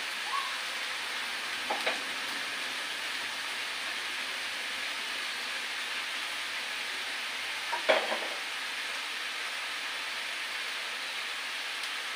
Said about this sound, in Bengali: তাহলে দেখুন আস্তে আস্তে এগুলো ভাজি করে নিচ্ছি